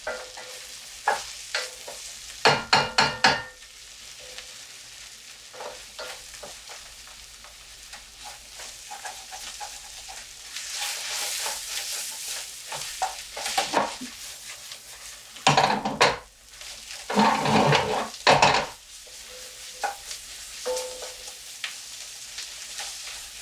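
Onions browning for French onion soup in a pan, stirred repeatedly, with bursts of scraping and clattering utensil strokes over a continuous sizzle, busiest near the middle and toward the end.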